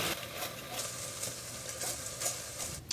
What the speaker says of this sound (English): Got 3 tablespoons of tomato sauce that I'm going to put in here. And I'll kind of let this pan fry for a minute here.